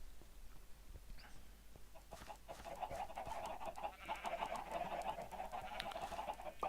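Chickens in the Minecraft video game cluck in a loose cluster of short repeated calls, fairly close, with steady soft background sound and no talking.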